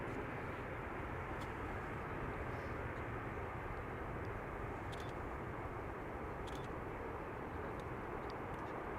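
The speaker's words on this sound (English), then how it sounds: "here's the A380 Destination Dubai special livery passing overhead" An Airbus A380 in Destination Dubai special livery passes overhead at Amsterdam Schiphol, a steady broad jet roar holding evenly throughout with no talk over it.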